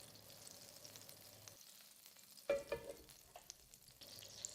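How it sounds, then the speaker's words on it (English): Butter melts with whole spices in a pan, a quiet, soft sizzle broken by a brief scraping clatter midway, then a gentle hiss again. "add about 15 grams of butter. And as the butter melts, start adding the whole spices."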